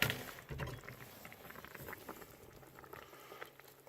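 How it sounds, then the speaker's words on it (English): Food bubbles gently in a pot on a campervan stove, a soft, continuous simmer with faint irregular pops, heard close and alone. "I'm going to let it simmer."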